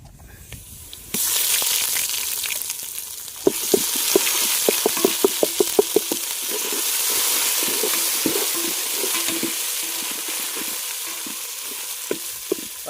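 Ginger garlic paste frying with browned onions in a village-style pan, a sudden burst of loud hissing sizzle that settles into steady frying, broken by a run of rapid spoon taps and scrapes.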